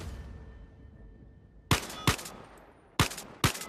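Four sharp, loud gunshots fired from a weapon in the VR shooter Zero Caliber on Oquest 2, spaced in two pairs after a quiet stretch, each a crisp broadband crack with short decay.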